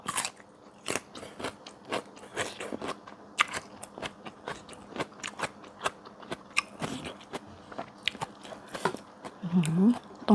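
Crisp bites and chewing on crunchy mango in a chili paste stir-fried with dried shrimp, eaten with rice: close, irregular crunches and crackles repeating steadily with no talk.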